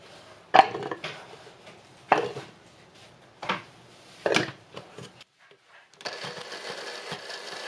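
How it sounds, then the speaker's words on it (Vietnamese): Garlic is minced with a knife on a board in a home kitchen, giving a few separate sharp chops with pauses between them, then a stretch of continuous scraping or grinding near the end. "Tỏi bằm hoặc là xay."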